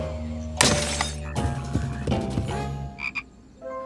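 A cartoon frog croaks several times in a loud, animated jungle scene, mixed with crashing, shattering effects and a brief high chirp, with no talking.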